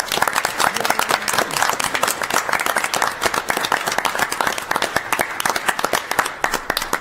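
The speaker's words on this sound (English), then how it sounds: "let's give all of the participants, winners, and honorable mentions a round of applause" A crowd at a city council meeting claps in a round of applause for participants, winners and honorable mentions, dense and steady throughout with no talk over it.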